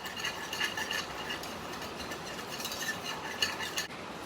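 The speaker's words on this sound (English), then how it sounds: "Whisk this up a little bit." Whisk stirring warm evaporated milk in a pot for stovetop mac and cheese, a steady soft scraping and light metallic clicking that continues through the whole stretch with no talk.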